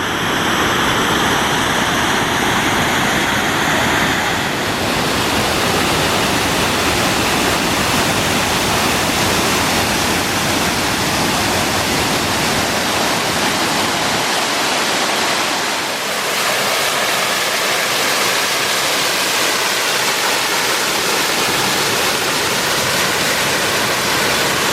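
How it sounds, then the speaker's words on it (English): A waterfall on the Snake River in Idaho roars loud and unbroken for the whole stretch, a thick close rushing wash of falling water with no voices. "The waterfalls of Idaho continue to just blow me away."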